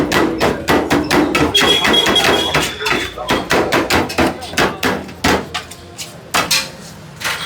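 Rapid metal-on-metal chopping of paneer shawarma filling with sauces and butter on a street food griddle in Madurai, loud repeated clanging strikes in quick bursts with a brief pause, background chatter underneath.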